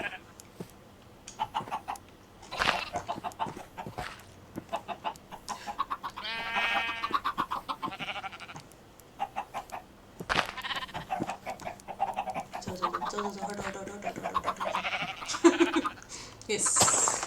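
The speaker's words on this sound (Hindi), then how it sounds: "मेरे भेड़ों वाले में एक छोटा सा चिकन घुसा हुआ है" Sheep bleat repeatedly in a Minecraft pen with a chicken inside, short nasal cries recurring throughout at moderate loudness, mixed with a voice talking over them.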